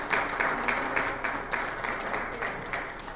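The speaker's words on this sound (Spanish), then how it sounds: "Dele el aplauso al Señor, es para Él." A church congregation applauding, with steady rhythmic clapping from many hands that keeps a regular beat throughout, moderately loud and filling the room without voices on top.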